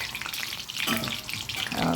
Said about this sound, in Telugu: వెల్లుల్లిపాయలు వేగిన తర్వాత ఎండుమిర్చి వేసాను